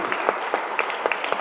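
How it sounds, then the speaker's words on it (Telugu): An audience at a one-day spiritual society workshop bursts into applause, a brief run of close, fairly even hand claps with no voices over them. "అలాగే పిరమిడ్ స్పిరిచువల్ సొసైటీ మూవ్మెంట్కి కూడా గట్టిగా ఒకసారి చప్పట్లు కొట్టుకోవాలి."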